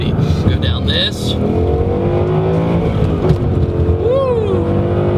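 A 2015 Ford Mustang GT with its Coyote V8 pulls hard under throttle, a deep loud engine drone rising and falling as it accelerates, with a person's voice briefly heard over it.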